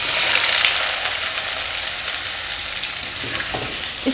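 Chopped onions fry in hot ghee in a pan for a bitter gourd and onion dish, giving a loud, continuous close sizzle that holds steady throughout with no talking.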